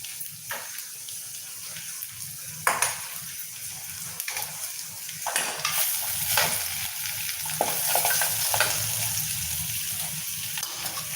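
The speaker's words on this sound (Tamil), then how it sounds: "நம்ம இடையில இடையில கீரையை ஒரு பரட்டி பரட்டி விட்டுக்கிடணும்" Lachchakottai greens fry in a pan while being tossed and stirred now and then, a continuous close sizzle broken by scraping stir strokes, rising toward the end, with no one talking.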